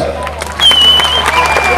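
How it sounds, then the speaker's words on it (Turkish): Audience applause at a Seki yaren night gathering in Fethiye, a dense patter of clapping with crowd noise and a thin whistling tone running through it, moderately loud and steady. "Şimdi de alkışlıyoruz."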